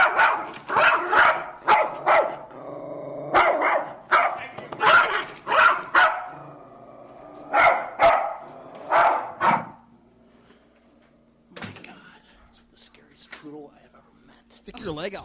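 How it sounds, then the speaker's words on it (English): A poodle barks repeatedly by a door, sharp close barks in bursts over several seconds, then quieter whines and yips, with people talking nearby. "It's barking by the door like any dog would."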